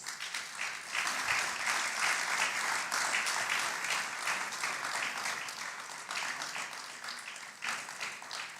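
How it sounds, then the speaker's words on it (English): A large audience at the closing ceremony of the 2022 ICAO Air Services Negotiation Event gives the organizing committee a warm, sustained round of applause, dense steady clapping filling the room for about nine seconds. "Celebrate them with a warm round of applause."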